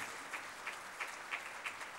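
Audience applause as a standing ovation for a martyr's son at a formal Pakistani ceremony attended by the Prime Minister, a steady, dense wash of many hands clapping without voices, with faint periodic swells.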